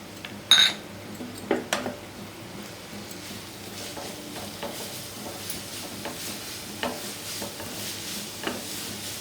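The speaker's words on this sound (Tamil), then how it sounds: "கேரட் நல்லா வதக்கிக்குங்க." Grated carrots sauté in ghee in a pan for carrot halwa, giving a soft, steady sizzle with a few sharp utensil clanks near the start and light stirring scrapes throughout.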